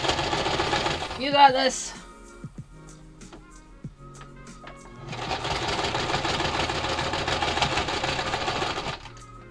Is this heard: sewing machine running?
yes